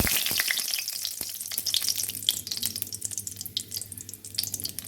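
Dried red chilli and nigella seeds fry in hot oil, a loud, close, steady crackling sizzle with dense sharp pops throughout, no voice.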